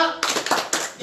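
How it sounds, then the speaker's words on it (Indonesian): Children in a classroom clap a short thumbs-clapping routine, tepuk jempol, in a few quick rhythmic hand claps, close and fairly loud, within a lesson with a voice nearby. "Tepuk jempol dong untuk Langit."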